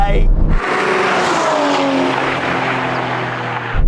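An Aston Martin V12 Vantage accelerates hard in a drag race, its engine note loud and rising in a sustained roar after a short burst of shouting, with tire noise and a clipped end.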